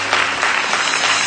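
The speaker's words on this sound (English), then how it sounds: "just clap your hands this morning" A church congregation claps its hands during a Sunday morning service, a continuous, loud wash of many hands with no clear individual beats.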